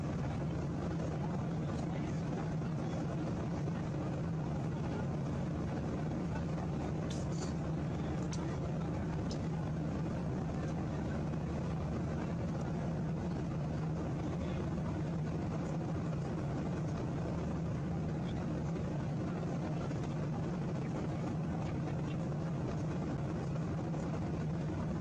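Steady broadband engine drone of a commercial airliner cabin at cruising altitude, a continuous low roar with a strong low hum, unbroken for the whole stretch with no talking.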